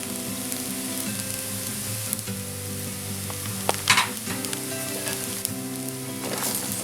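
Chinese-style veg fried rice sizzles steadily in a pan as spring onions are added, a continuous loud frying hiss with a brief burst of stirring partway through, with no voices.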